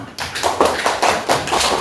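A primary school class in a fikih lesson clapping together in rhythm, a run of loud, close, evenly spaced group claps repeating several times.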